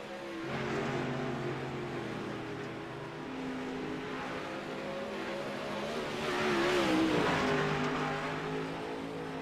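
Big block modified sprint cars race around the Albany-Saratoga Speedway oval, engines droning and revving steadily, swelling louder as cars pass close by with no talk over them.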